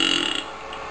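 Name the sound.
man burping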